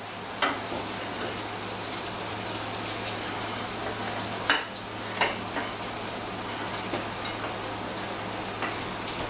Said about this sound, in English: see if we can't get out our beautifully fried tentacles